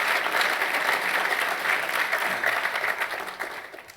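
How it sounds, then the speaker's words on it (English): Audience applause at a New College talk, welcoming a 16-year-old in the crowd: dense, steady clapping from many hands that holds evenly and then tapers slightly toward the end. "give him a round of applause for coming"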